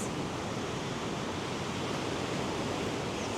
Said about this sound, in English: take in the relaxing sounds of the waves